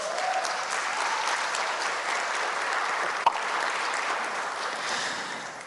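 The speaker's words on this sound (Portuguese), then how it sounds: "Merece uma salva de palmas." Steady applause fills a chamber during a special legislative session, sustained and even throughout, with one sharp knock partway through and a slight fade at the close.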